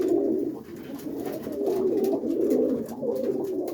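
Roller pigeons in a loft on a rainy morning, cooing in continuous low throaty warbles that swell and dip, several birds close by with soft patter in the background and no talking.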